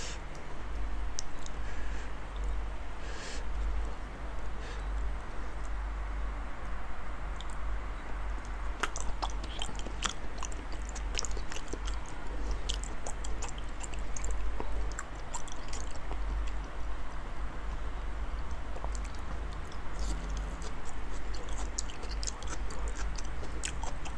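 Close, wet chewing of big, full mouthfuls of salmon, steady and continuous with soft smacks and squelches, no talking.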